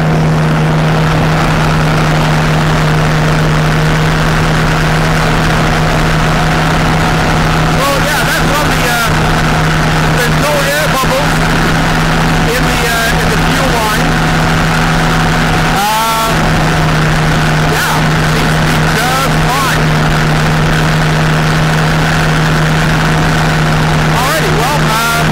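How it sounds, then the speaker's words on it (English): Challenger 2 ultralight airplane engine idling on the ground after starting, a loud steady droning hum that runs throughout with slight wavers in pitch, while someone talks over it now and then. "This is going to be a short episode because it's just me starting the engine, but it is running, good."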